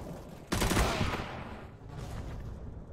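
A sustained automatic spray from an AK-style rifle in the video game CS:GO bursts in loudly and rattles on rapidly for over a second before tailing off into softer trailing shots.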